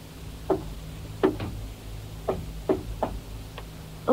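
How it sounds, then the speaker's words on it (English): Knuckles rap on a door in a patterned signal of sharp, distinct knocks, some in quick pairs, spaced over a few seconds against a quiet radio-drama background. "I'll give a knock like this."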